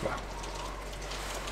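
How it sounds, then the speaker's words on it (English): Heavy rain falling steadily outdoors in Greenland, a continuous soft hiss with a low rumble underneath and no speech. "It's raining a lot today."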